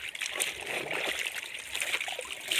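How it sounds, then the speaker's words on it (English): Water drips and trickles from freshly hand-washed clothes hung on a line in a village, a faint, patchy patter of drops landing close by. "so we are going to put them to drip"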